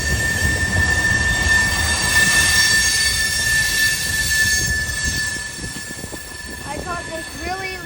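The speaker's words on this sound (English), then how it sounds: "this really long and slow odd train." A long, slow Wheeling and Lake Erie freight train rolls past at a fair, wheels rumbling with a sustained high squeal and metallic screeches near the end, while a person talks over it.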